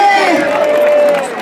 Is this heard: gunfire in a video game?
no